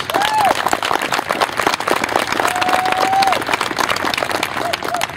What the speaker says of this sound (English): Great round of applause for everything so far